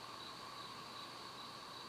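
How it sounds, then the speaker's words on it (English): Faint, continuous droning of cicadas in the distance, a steady high-pitched buzz with no voices. "If you hear a droning noise in the background, those are cicadas."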